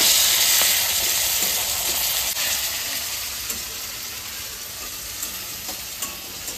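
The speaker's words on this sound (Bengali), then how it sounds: "ভাঙার আগে আমি রসুন আর রাঁধুনিটা দিয়ে দেবো তেলে" Garlic and radhuni seeds fry in fish oil in a home kitchen, giving a close, steady, loud sizzle that eases off slightly over time, with a few faint clicks of stirring and no talk.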